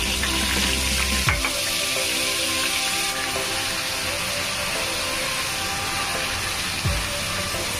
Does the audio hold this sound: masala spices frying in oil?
yes